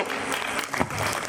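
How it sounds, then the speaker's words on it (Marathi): An audience at a lucky draw claps together, a dense, uneven patter of applause that carries throughout, moderately loud, with faint voices mixed in. "सगळ्यांनी टाळ्या वाजवायचे."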